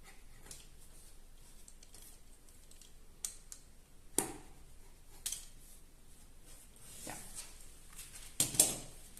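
Scissors trimming the fringes on the ends of a handmade scarf give a few sharp, faint snips and clicks spaced apart over a quiet, hushed background, with no speech.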